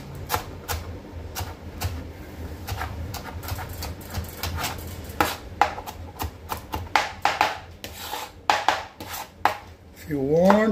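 A knife chops onions rapidly on a cutting board for Mumbai khada pav bhaji. The close, steady tapping runs throughout with slight irregular accents, and a short voice comes in near the end.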